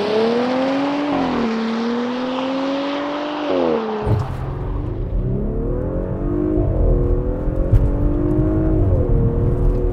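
A 2021 Audi SQ5 launches hard off a brake-boosted start, its engine roaring loud and close, climbing in pitch through two quick upshifts before pulling steadily on.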